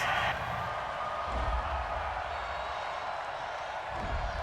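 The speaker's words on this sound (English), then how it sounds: "this crowd does not like that call" Football stadium crowd at a Tennessee Titans versus Houston Texans game reacting to a roughing-the-passer penalty, a broad distant roar with scattered shouts and brief swells, heard faintly beneath a background voice.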